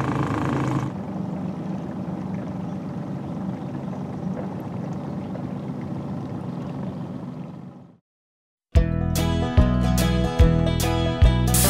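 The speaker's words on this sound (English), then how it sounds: "And this motor just putt-putts real slow, doesn't smoke." A slow-running outboard motor on an old fishing boat putt-putts at steady low idle for about eight seconds, then cuts off; after a brief silence, loud unrelated music begins.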